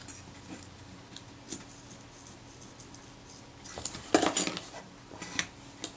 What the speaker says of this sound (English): You can hear it cracking away.